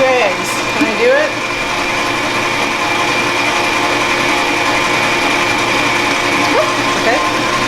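A hand or stand electric mixer runs steadily at slow speed through pound cake batter, a continuous whirring drone with faint scraping, near and fairly loud throughout.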